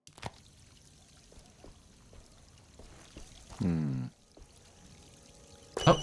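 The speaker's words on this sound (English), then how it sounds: "Oh, water hose." Water gushes from a hose in the survival horror game Alone in the Dark, a loud burst of pouring lasting about half a second amid quiet ambience, with a second splash at the end.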